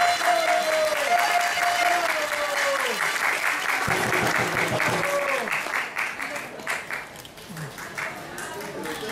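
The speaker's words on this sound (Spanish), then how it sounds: "Un aplauso por la directora." Audience applause for the director at the Miss Teen Lima Norte 2013 beauty pageant, steady clapping for several seconds, with a voice over it and music-like tones at the start.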